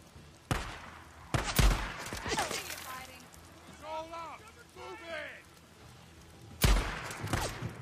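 Rifle fire in a video game: a single crack, then a quick close pair of shots, a lull filled by voices, and one last loud shot near the end.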